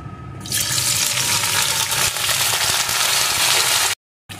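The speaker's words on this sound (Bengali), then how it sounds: "এখন আমি প্রথমে ভেন্ডির টুকরোগুলোকে দিয়ে একটু ভেজে নেব।" Okra pieces hit hot mustard oil in a pan and fry with a loud, continuous close sizzle that flares up at once and holds steady before cutting out briefly.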